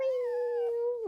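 A young female cat gives a single drawn-out, steady meow that bends at the end, close and clear with no talk.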